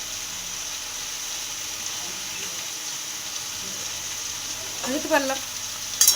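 Salted potato pieces fry and sizzle in a pan with a soft, continuous hiss. Stirring clatters near the end, and a voice speaks briefly.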